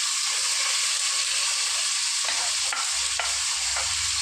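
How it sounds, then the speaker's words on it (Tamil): Onions, tomatoes, curry leaves and green chilies sauté in a pan for mutton curry, giving a steady close sizzle with occasional stirring scrapes and no talk. "கருவேப்பிலை பச்சை மிளகாய் இப்போ கட் பண்ணி வச்ச வெங்காயம் தக்காளி போட்டுக்கணும்"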